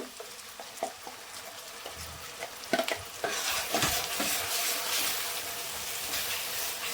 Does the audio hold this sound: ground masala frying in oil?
yes